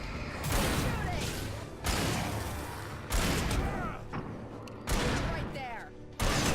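Bursts of gunfire during Alan Wake gameplay, several loud clustered volleys separated by short gaps, with a voice talking over the shooting.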